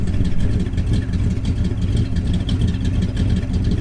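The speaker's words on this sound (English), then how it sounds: "This truck sounds amazing though." A truck with a quadrijet carburetor idles nearby, its engine a loud, steady low rumble with a rhythmic lope running throughout and no voices.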